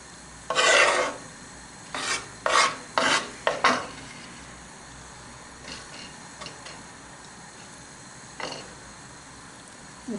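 Knife slicing the tops off cooked, cooled oranges for jam, a series of close, short rasping cuts in bursts followed by quieter scattered scrapes.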